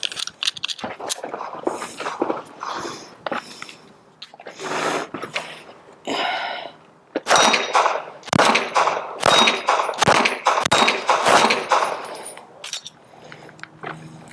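A miniature single-action 1911 pistol fires a run of sharp, loud cracks, some single and some close together, each followed by a metallic ring and clatter.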